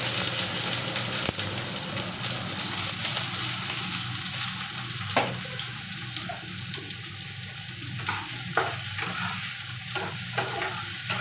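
Onions go into a pan as the start of a katla fish chop, frying with a continuous close sizzle while a spatula stirs and scrapes at intervals.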